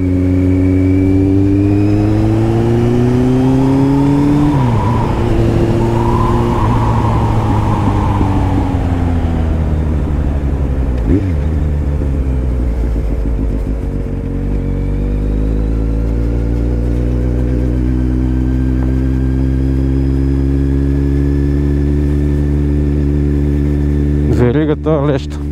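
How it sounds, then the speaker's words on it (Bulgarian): A motorcycle engine revs hard and close, its pitch climbing, dropping and surging again over a long sustained run, loud throughout. "За така да си мъча мотора"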